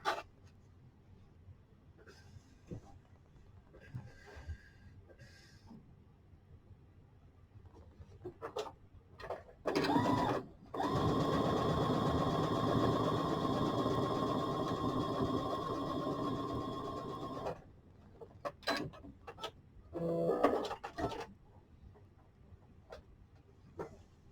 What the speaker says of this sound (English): And then I'm going to sew this seam right here.